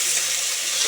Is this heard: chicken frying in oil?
yes